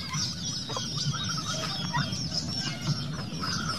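Native hens cluck steadily beside newly hatched chicks, with soft repeated clucks and faint high peeps close by in a farmyard, no talking.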